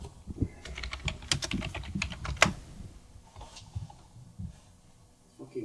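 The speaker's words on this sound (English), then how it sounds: "I'll just type in Chip" Someone types a search on a computer keyboard, a quick close run of key clicks that thins out into a few scattered taps, with faint background sounds afterward.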